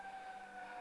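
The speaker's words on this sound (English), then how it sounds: "An ambulance is coming by outside my house" An ambulance siren passes outside a house, a steady two-tone wail held throughout, fairly faint and distant, with no talk over it.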